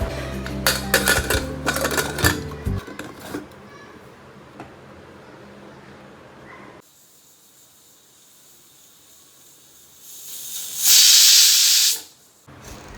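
A pressure cooker cooking daliya with vegetables: clattering pots and utensils at first, then a quiet stretch, then a loud, close burst of hissing steam from the whistle lasting over a second before it cuts off.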